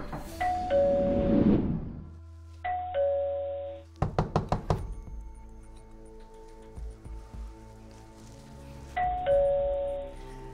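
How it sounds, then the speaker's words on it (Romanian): A doorbell rings again and again in a Romanian TV drama scene, giving repeated ding-dong chimes, close and clear, with a burst of rapid knock-like hits partway through and no talk in between. "Sună la ușă în continuu"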